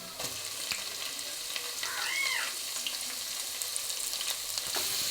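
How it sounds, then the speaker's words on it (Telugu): Cauliflower frying with dried prawns in a covered pan, making a steady, fairly quiet sizzle with occasional ticks and a brief high squeak partway through, with no talk. "చూడండి, ఇవైతే వేగుతున్నాయి కదా, ఇందులోనే క్యాలీఫ్లవర్ వేసుకున్నామండి."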